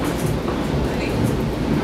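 A Long Island Rail Road train on the Babylon Branch between Amityville and Babylon, heard as a steady, loud rumble of wheels and carriage noise with faint chatter mixed in.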